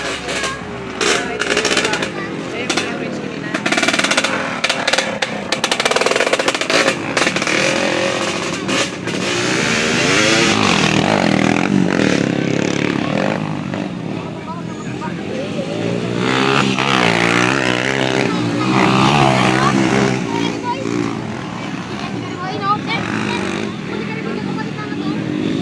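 Motocross motorcycle engines at a dirt track in Cagulong, Oriental, loud and close, revving and rising in pitch in repeated surges and then holding at high rpm, with people talking over the engine noise.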